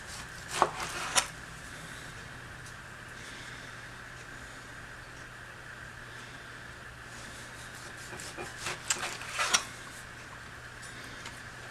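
Knife cutting a whole pork loin into chops: a few sharp cutting knocks early on, a quiet stretch, then another brief cluster of chopping and tapping on the board, close and fairly faint.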